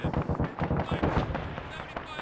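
Mortar fire and gunfire in the video game Arma 3, with rapid booming and cracking shots rolling together in a dense, loud burst throughout.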